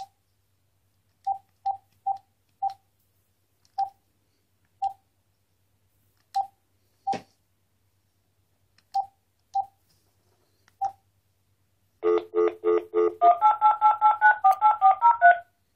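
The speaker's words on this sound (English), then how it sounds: "I'm going to make a test call." Telephone keypad tones sound as a MagicJack Plus test call is placed over WiFi, a dozen short separate beeps at uneven intervals, then a rapid burst of dual tones as the number dials out.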